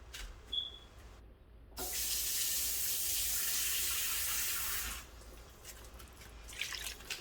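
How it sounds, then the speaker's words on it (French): Water from a tap pours steadily for a few seconds into a pot of cooking vegetables, a close rushing stream that starts abruptly and stops, with quieter kitchen handling before and after. "Je pense qu'on doit ajouter un peu d'eau."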